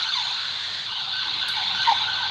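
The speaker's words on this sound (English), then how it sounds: "It's an ambulance driving by." An ambulance siren wails steadily as the vehicle drives past, the continuous rising and falling tone sounding moderately close and unbroken.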